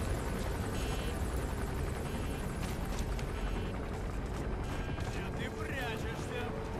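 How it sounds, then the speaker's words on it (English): A helicopter flies in the video game Metal Gear Solid V: The Phantom Pain, a steady loud rotor and engine rumble running throughout, mixed with game effects and a voice speaking over it. "I didn't realize there was a helicopter in this mission."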